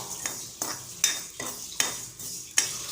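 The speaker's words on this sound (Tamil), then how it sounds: "எல்லாத்தையும் சேர்த்துட்டு கலந்து விட்டுப்போம்" A spoon stirring coriander seeds, mustard seeds and cumin dry roasting in a pan, with about six distinct scraping strokes in a steady rhythm, close and moderately loud.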